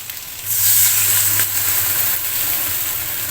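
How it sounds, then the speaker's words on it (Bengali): Water poured into a pan of frying okra for a mustard okra dish sets off a sudden loud, hissing sizzle that swells and then settles into a steady crackle, close up with no talking. "এখন আমি সামান্য পরিমাণ জল ব্যবহার করব এটার মধ্যে। দিয়ে দিচ্ছি একটু জল।"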